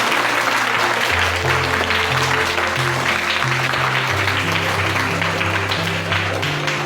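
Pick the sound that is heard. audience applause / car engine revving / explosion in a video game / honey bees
audience applause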